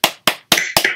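Four sharp, evenly spaced claps in about a second, close and crisp, sounding like a single pair of hands clapping alone, each ending in a short decaying ring.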